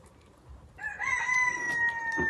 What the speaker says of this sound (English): Not you, rooster.